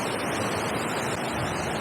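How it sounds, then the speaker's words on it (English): Continuous dense roar of water pouring over an artificial weir waterfall along a river walkway, loud and unbroken with no voices. "That kind of weir waterfall thing, that's artificial."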